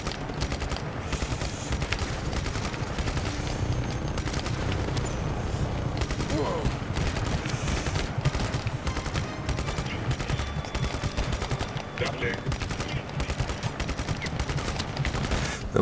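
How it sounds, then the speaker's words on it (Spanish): Rapid bursts of gunfire from the video game Just Cause 3 rattle continuously under a dense, noisy mix of explosions and effects, loud and sustained throughout. "Está recibiendo disparos."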